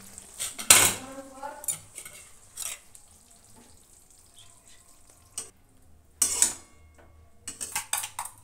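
Dishes and metal utensils clink and scrape while cooked cauliflower is served, several sharp bright clatters separated by quiet gaps with softer handling noises between.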